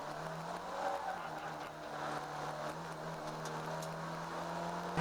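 Mighty Mini race cars lapping Cadwell Park, a steady engine drone with tyre noise holding throughout, moderately close and without talk.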